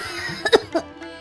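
A girl coughs loudly, two or three sharp bursts close by, with a quiet pause before and after.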